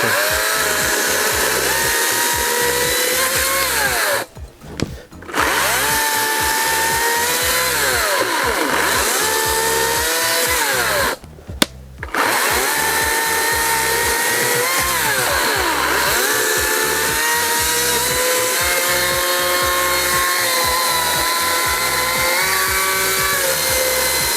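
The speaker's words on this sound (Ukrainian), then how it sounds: "з'являється нагрузка на пилку, вона додає обертів" A GTM CS56/3000BL cordless chainsaw cuts through firewood and a knot with a loud, steady buzzing whine that rises under load. It briefly drops out twice before resuming.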